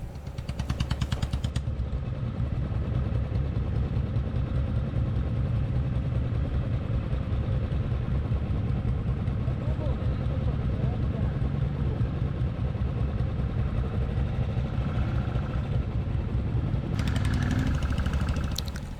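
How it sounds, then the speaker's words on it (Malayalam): A Royal Enfield Meteor 650 motorcycle engine runs steadily at a low, even throb for the whole stretch, close and fairly loud, with brief bursts of wind or handling noise at the start and end. "മെറ്റിയർ 650 കണ്ടില്ല, നല്ല കിടിലൻ വണ്ടിയാണ് സംഭവം."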